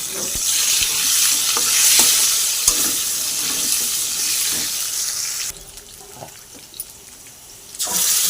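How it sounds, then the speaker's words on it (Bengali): Potatoes fry in hot oil tempered with cumin and bay leaves for a rohu fish curry. A loud, dense hiss of oil carries through with occasional stirring knocks, then drops to a quieter sizzle before swelling again. "তেজপাতা ফোড়ন দিয়ে আলুগুলো দিয়ে ভালো করে লাল লাল করে ভেজে নেব"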